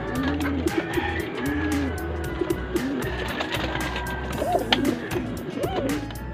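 Several young pigeons packed into a box coo repeatedly, their soft rolling calls close and clear over a low background rumble.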